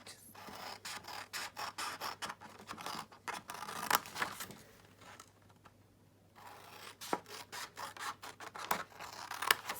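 Scissors cut into the edges of a paper gift bag, a series of quick crisp snips in bursts with a short pause midway, close and fairly quiet.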